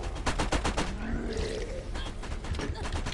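Rapid turret gunfire in the video game Borderlands, a dense run of loud repeated shots with steady rhythm, layered with game effects and some voices underneath.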